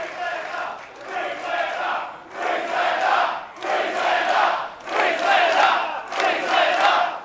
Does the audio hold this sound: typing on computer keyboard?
no